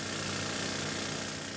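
A rock drill bores into the rock face of a gold mine in a cramped, low chamber, with water cooling the drill, sounding as a loud, continuous, unbroken roar close by.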